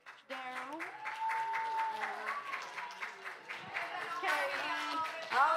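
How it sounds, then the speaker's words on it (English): At a church Vacation Bible School closing, the congregation claps for the Bible school helpers, a scattered patter of hands running beneath prominent voices that keep talking and calling out throughout. "please stand up so we can give you a round of applause"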